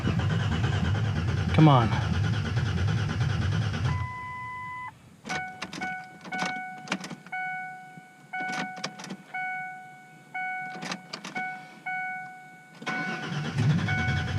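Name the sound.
Ford Ranger engine cranking and starting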